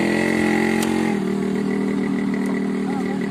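A motorcycle idling near the Dhola Sadiya bridge, its engine a steady, close, low hum with a constant throb that barely changes throughout.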